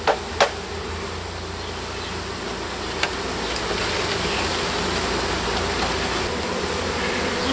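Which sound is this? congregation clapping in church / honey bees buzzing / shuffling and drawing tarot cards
honey bees buzzing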